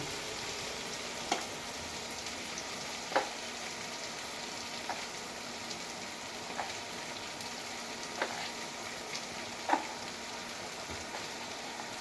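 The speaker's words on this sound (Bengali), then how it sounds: "এটা দেখুন অনেকটাই ভাজা হয়ে এসছে, অনেকটাই হয়ে এসছে।" Brinjal (eggplant) frying in oil for a pickle, a soft continuous sizzle and crackle with occasional louder pops and scrapes recurring every second or two.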